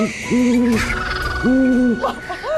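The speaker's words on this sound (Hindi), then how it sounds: "देखो सफेद उल्लू" A white owl hoots in a television drama: two drawn-out, wavering calls close up, then the start of a third, loud and with nothing else over them.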